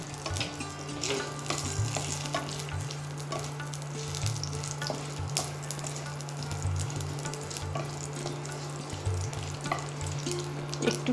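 Panch phoron five-spice tempering sizzles in hot oil in a kadai for Bengali labra, with steady crackling frying and intermittent scraping stirs of a ladle or spatula over a low, constant hum.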